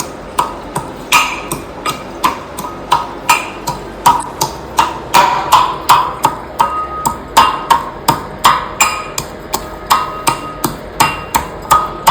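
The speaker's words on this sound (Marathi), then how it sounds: "आपण या खलबत्त्यामध्ये लसूण आणि अद्रक याची पेस्ट करण्यासाठी टाकल्यावर आपण कुठून घेऊ" Garlic and ginger pounded into paste in a mortar and pestle for a Vidarbha-style chilli vegetable dish, heard as steady, evenly spaced thuds, close and fairly loud, repeating about twice a second with no talking.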